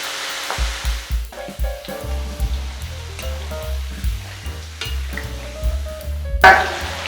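Potato bites for French fries frying crisp in hot oil, a steady bubbling sizzle with occasional stirring clatter, close and fairly loud throughout.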